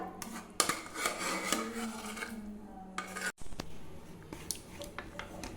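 Mashed carrot for carrot halwa scraped and stirred in a metal pan, with soft rasping and clinking of a spoon against the pan, close and fairly quiet, alone without talk.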